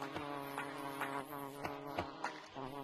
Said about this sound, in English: Bees, come on, help them out, bees!